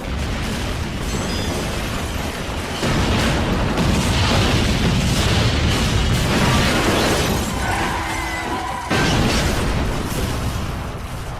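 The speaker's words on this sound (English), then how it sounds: "The towers are falling!" In a film scene, skyscraper towers collapse amid heavy booming explosions, rumbling crashes and shattering debris, a dense and continuous roar with sharper bursts throughout, with no talking.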